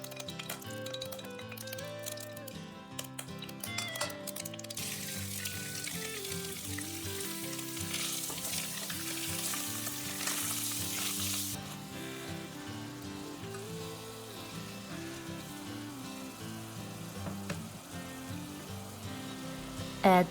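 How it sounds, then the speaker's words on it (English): Beef frying in perilla oil in a heated pot for Korean seaweed soup, a steady crackling sizzle that swells louder partway through, with faint clinks and a light background melody. "Add Perilla oil in a heated pot and cook until the surface of beef gets white."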